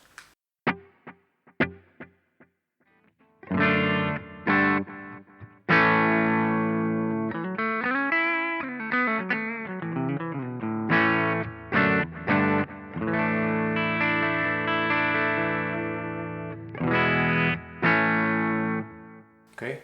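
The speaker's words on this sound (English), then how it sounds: "let's just select the analog delay over here and turn it on, hear how it sounds" Electric guitar played through the analog delay of a Boss GT-1 multi-effects pedal: a few sparse plucks, then sustained strummed chords and bending notes with repeating echoes trailing each attack, fairly loud and with no talking.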